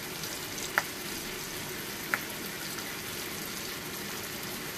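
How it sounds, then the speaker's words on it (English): Continuous crackling sizzle of bacon frying in a pan, steady and close, with a couple of faint clicks and no voices. "They all got their share of heat from frying pan"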